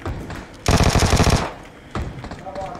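Video game gunfire in a mobile shooter such as PUBG Mobile: a single rapid automatic burst of about a dozen close, loud shots, followed by a quieter shot, with faint talk between.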